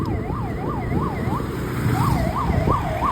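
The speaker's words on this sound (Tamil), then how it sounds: "ஆம்புலன்ஸ் போகுது." An ambulance siren wails in a rapid rising-and-falling pattern, loud and steady, over the rumble of passing traffic.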